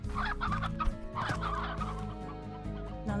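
Hens in the Slime Rancher video game cluck and gobble steadily for a few seconds, a dense, close flock chorus with no voices over it.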